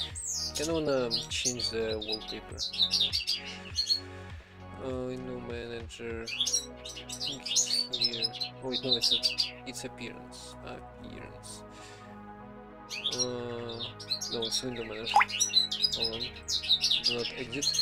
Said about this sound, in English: you might also hear a bird in the background